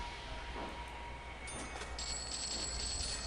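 Train sounds in the Railroads! video game: a steady rolling rumble with a faint bell-like ring and a thin high whine joining partway through.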